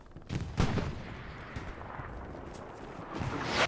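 Artillery fire in Hell Let Loose, a heavy distant boom followed by a rumbling battlefield wash and a few further thuds.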